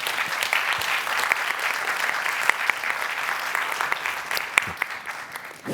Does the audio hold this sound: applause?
yes